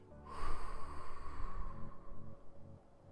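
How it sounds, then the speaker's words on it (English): Slow, complete exhale through pursed lips during guided 4-7-4 breathwork, a soft close breathy rush that starts abruptly and gradually tapers over a few seconds. "Exhaling completely."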